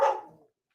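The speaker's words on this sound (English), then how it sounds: "My dog's home, so that's why they're barking" A single short, sharp bark from a dog at home rings out nearby and quickly fades, heard alone without talk.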